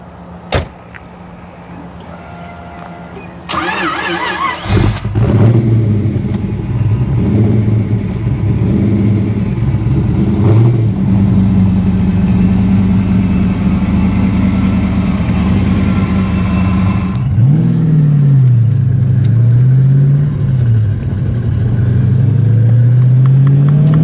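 A supercharged Foxbody Mustang, a former highway patrol SSP car, starts and idles with a door thunk, then settles into a loud, lumpy engine note with several rising and falling revs during a ride.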